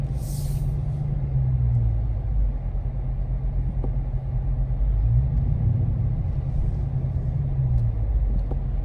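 Low, rumbling New York City traffic idles and creeps nearby, with engine drone and a bus or truck's deep hum rising and falling, plus a faint hiss at the start.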